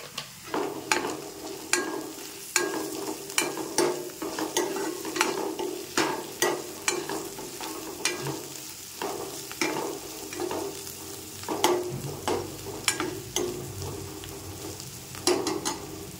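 Turmeric sizzling in hot tempering oil for potato and green pea curry, a steady close fry with repeated sharp scraping strokes of a spoon stirring the pan at an even rhythm, no talking.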